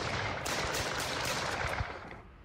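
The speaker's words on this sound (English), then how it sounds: "Another shooting?" Gunshots of a city shooting in a horror game about a homeless man, a dense, fairly distant rattle of rapid fire with a few sharper reports, continuous then fading slightly at the end.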